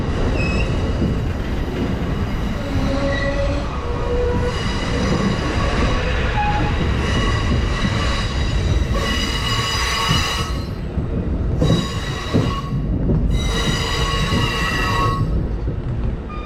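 A train rolls through Emeryville train station, loud and close, its wheels squealing in sustained metallic tones over a continuous rumble and rail clatter.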